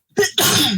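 A single sharp human sneeze during a tabletop role-playing game session, heard close and loud: a brief inhaled catch followed by an explosive burst of breath, alone with no talk over it.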